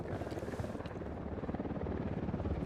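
A helicopter in Ghost Recon Wildlands gives a steady, rapid rotor thumping, fairly faint and constant for the whole stretch, with no break.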